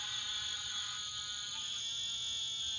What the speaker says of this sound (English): You could hear all of the frogs.